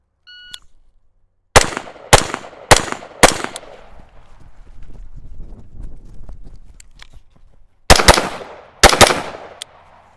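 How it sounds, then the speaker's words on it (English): Fast gunshots in a timed shooting drill: a quick string of four loud, sharp shots, a pause, then two more, each ringing briefly, with a faint beep at the start. "You need to shoot fast"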